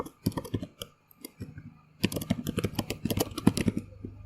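Keys clattering on a computer keyboard while a name is typed during an Ubuntu setup in VirtualBox, a few sparse taps then a quick, close run of keystrokes.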